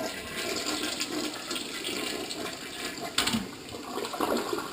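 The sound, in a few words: full flush of a Mansfield model 3386 toilet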